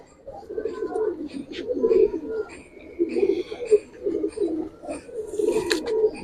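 Pigeons coo repeatedly in soft, throaty bursts close by, with occasional flutters and faint voices in the background, at a pigeon loft selling coloured and Giribaz pigeons.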